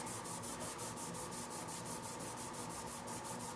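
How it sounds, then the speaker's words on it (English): Rapid, regular scrubbing strokes of a 3M red Scotch pad rubbing sanding swirl marks out of a metal backplate, a raspy back-and-forth hiss repeating steadily and close up. "take a Scotch pad, 3M red pad, and rub out the swirl marks"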